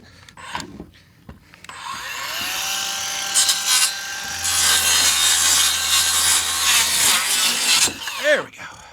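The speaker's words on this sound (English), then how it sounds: "Where's my saw? There's my saw." A handsaw cuts through a wooden deck board in steady back-and-forth rasping strokes for several seconds, close and fairly loud, with a person speaking briefly around it.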